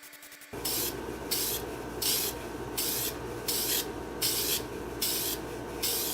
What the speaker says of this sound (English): Spray on shellac.